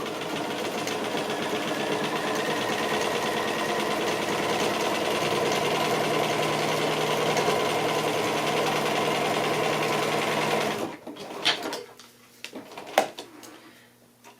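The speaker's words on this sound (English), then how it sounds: "Now I'm going to sew right along the edge." A sewing machine stitches along the edge of a paper-pieced quilt block, a steady fast whirring hum that runs for about eleven seconds, then stops, leaving a few faint handling taps.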